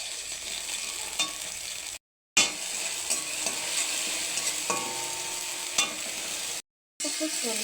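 Ginger and green chilli paste sizzles continuously in a hot pan as a spatula stirs and scrapes it, a close, steady frying hiss broken by two brief silent gaps, with no voices.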